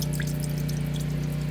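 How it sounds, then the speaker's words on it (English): Water runs steadily through a 3-inch drain clean-out pipe where a 2-inch clean-out drops into the main line, a continuous low trickling flow with a strong steady hum and faint drips above it. "and you can see water flowing."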